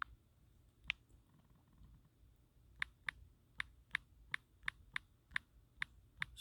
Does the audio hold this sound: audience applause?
no